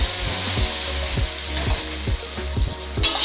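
Chicken and cumin frying in a pan, a loud, steady sizzle throughout with a series of rhythmic scraping stirs close by.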